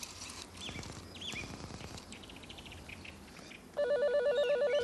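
A repeating electronic error tone warbles steadily from a 1979 mobile phone system after a misdialed number. It comes in loud and clear at the end, following faint background noise and clatter.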